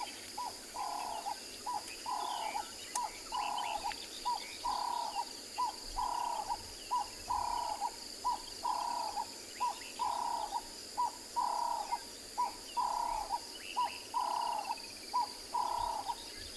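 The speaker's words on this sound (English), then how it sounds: "Cape Turtle Dove, it's one of the common bird around." Cape Turtle Dove calling at a sunset safari, a steady series of about a dozen evenly spaced, fairly loud coos repeating in a regular rhythm over a faint background of insects and other birds.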